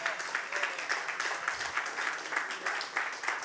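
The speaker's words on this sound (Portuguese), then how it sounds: "Vamos aplaudir o Espírito Santo" A church congregation claps in a rhythmic, fairly fast pulse, a moderate, steady applause with faint voices underneath, somewhat distant.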